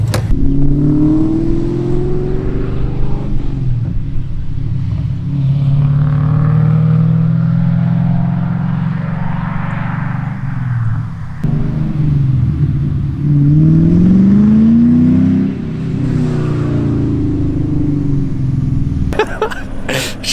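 A restored car's engine revs loud and close on a short test drive, rising and falling through two long acceleration sweeps with a steady mid-pitched drone, with no talking.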